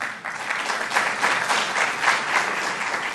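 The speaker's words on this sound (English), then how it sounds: "I didn't expect so many applause lines until our featured guest, but there's one more." Sustained applause from an audience at an honoree event: dense, steady clapping from many people, fairly loud and continuous for a few seconds with no speech.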